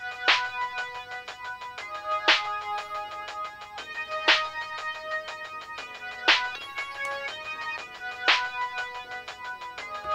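A saturated 808 bass plays inside a Cubase beat, bright harmonic notes repeating in a steady loop with a punchy hit landing about every two seconds, clean and without voices.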